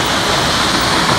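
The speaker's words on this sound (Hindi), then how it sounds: "आप झरना देख सकते हो, काफी अच्छी है।" A waterfall at Chidtaal roars as a steady, dense rush of falling water, loud and unbroken throughout with no voices over it.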